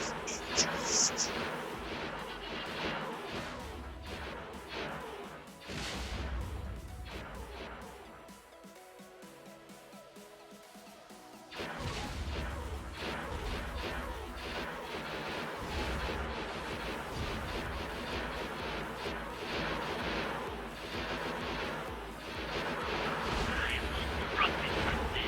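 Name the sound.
ship turrets firing in X4 Foundations video game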